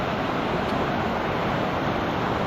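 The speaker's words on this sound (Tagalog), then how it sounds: "Ang laki ng tubig." High, swollen river water rushing past, a loud, unbroken close roar with no voices, heard near a riverside spot while gathering ferns and banana hearts.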